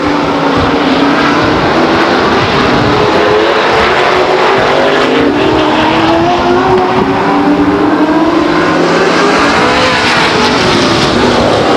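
Grand American Modified race cars roar through a heat race at Stockton 99 Speedway, their loud engines blending into one continuous howl that rises and falls as they pass.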